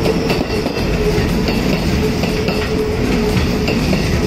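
A Sanyo 6000 series local commuter train rumbles steadily close by as it pulls into a station, wheels clacking over rail joints with faint metallic squeals, the noise holding loud and constant throughout.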